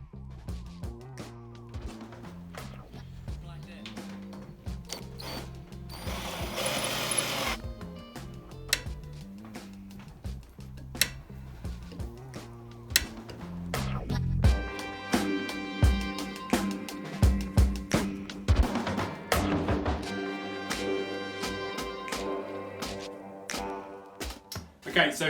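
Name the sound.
die cutting external thread on 6mm brass rod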